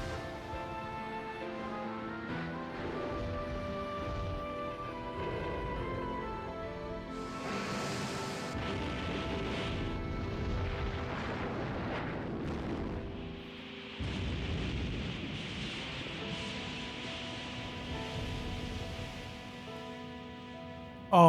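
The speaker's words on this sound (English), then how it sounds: "Oh, that's a cool... Ooh! That's a cool explosion." An explosion with spiralling debris in the video game Ys 3, a long roaring blast with rumbling bursts and hissing noise layered over the game's background music, loud and sustained.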